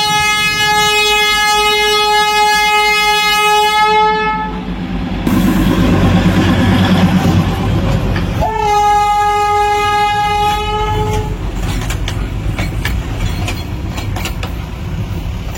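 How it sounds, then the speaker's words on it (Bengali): The Darjeeling toy train rolls past in the mountains, its loud horn sounding in long steady blasts, then a second set of hoots, over continuous close rumble and clatter of the wagons, heard from a car. "দার্জিলিংয়ে এসে টয় ট্রেন না দেখলে তো ভালোই লাগে না। তো টয় ট্রেনও দেখলাম গাড়িতে বসে"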